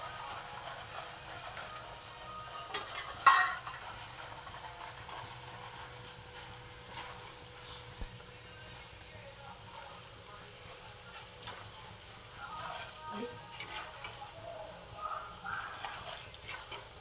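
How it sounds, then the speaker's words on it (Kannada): Peanuts and roasted gram fry in a pan with a faint, steady hiss and sizzle, broken by a few sharp clinks and stirring knocks. "ಶೇಂಗಾ ಸ್ವಲ್ಪ ಫ್ರೈ ಆಗ್ತಿದೆ ಅಂದಂಗೆ ಫ್ರೆಂಡ್ಸ್, ಅವಾಗ ಏನು ಮಾಡಬೇಕು, ಪುಟಾಣಿ ಹಾಕ್ಬಿಡ್ಬೇಕ್ರಿ ಫ್ರೆಂಡ್ಸ್"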